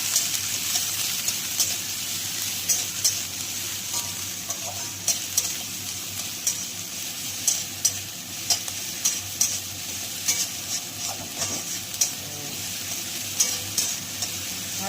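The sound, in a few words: onions frying and being stirred in a pan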